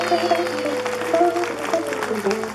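Congregation clapping at a Christmas evening Mass at a Divine Mercy shrine in Kabuga, Rwanda, a dense patter of many hands mixed with voices and a sustained tonal sound beneath.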